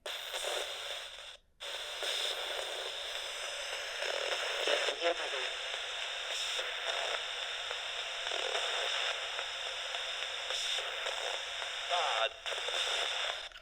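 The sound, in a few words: radio white noise static from a spirit box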